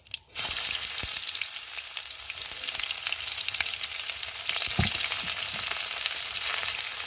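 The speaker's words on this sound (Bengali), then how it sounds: "পেঁয়াজটা ভাজা ভাজা হয়ে এসেছে" Whole cumin and onions sizzle steadily in hot oil in a home kitchen pan, a continuous close crackle with a few sharp pops and occasional stirring scrapes.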